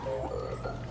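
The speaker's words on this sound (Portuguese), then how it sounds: "Sapo." Frog croak sound effect from a toy piano, a single loud electronic croaking tone lasting about a second, close and alone.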